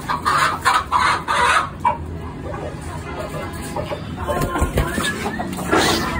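Chickens and roosters in a home poultry setting cluck in repeated bursts, close and fairly loud, with some overlapping bird calls and human voices mixed in.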